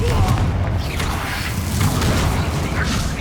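A Confringo spell blast from Hogwarts Legacy bursts with a loud booming thump over a dense rumbling game soundtrack, several heavy impacts running together through the short stretch.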